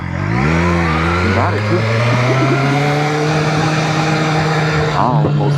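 BMW S1000RR motorcycle launching from a standstill after a near stall, engine note climbing steadily as it pulls away loud and close, with brief voices over it.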